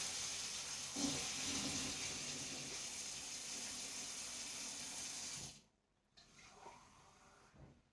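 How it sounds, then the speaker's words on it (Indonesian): Tap water gushes steadily from a faucet for drinking, a loud, even rush that cuts off abruptly, followed by brief faint splashes and handling sounds. "Air minumnya air keran."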